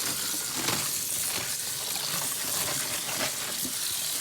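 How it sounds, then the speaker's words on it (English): Tap water runs at reduced pressure over cabbage being rinsed for spicy fried cabbage, making a steady, close, hissing splash with small gurgles and drips throughout, with no talking. "a little less pressure so I don't splash water everywhere"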